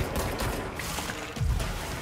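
Bursts of gunfire in the video game Control, a few sharp shots scattered through a dense, noisy game soundscape with heavier impacts near the end.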